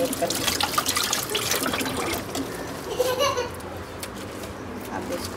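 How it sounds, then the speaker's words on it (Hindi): Yogurt poured from a plastic bag, giving a continuous close, wet, sloshing trickle while people talk over it. "शापर से दही डालना बहुत मुश्किल होता है"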